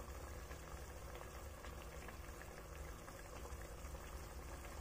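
Beef rib broth boiling in a pot, a steady faint bubbling and simmering hiss that continues evenly throughout with no talking.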